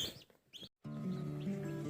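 Broody hens with chicks, soft clucks and faint peeping chirps, then after a brief dropout a low continuous hum with quiet clucking beneath it.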